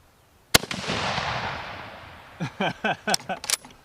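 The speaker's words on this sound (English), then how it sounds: "Send another round. There's two shots." A Mosin Nagant rifle fires one sharp, loud shot followed by a decaying echo, then a quick series of rapid distant reports.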